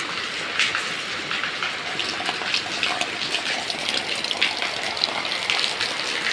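Steady, dense hiss of heavy rain pouring down outdoors, a continuous rushing wash with no pauses and no voices.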